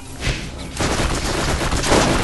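Revolver fire in the video game Borderlands, loud, dense and continuous bursts of gunfire with booming low end, running without pause across the whole short stretch.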